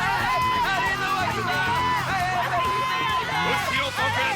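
A large crowd cheers and roars for a Beyblade spinning-top battle in a stadium, a loud continuous wash of shouting and whooping voices that fills the whole stretch without a break.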